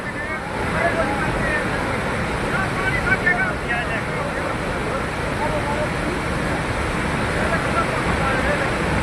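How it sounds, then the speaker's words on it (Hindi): Floodwater after a cloudburst in Himachal rushes through a dry river valley with a loud, continuous roar and wind buffeting, while a reporter talks over it. "जब पानी आ रहा है तो कैसे, कितनी तेज़ी से और कितनी मात्रा में, कितना ज़्यादा पानी है"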